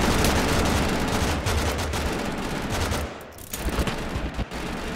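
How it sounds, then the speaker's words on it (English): Sustained machine-gun fire in the video game Totally Accurate Battlegrounds, a loud dense rattle of rapid shots that runs for several seconds with a brief dip near the end before resuming. "I got this machine gun, I'm just gonna..."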